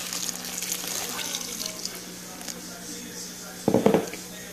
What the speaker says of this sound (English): now I'm just going to put in my white wine or beer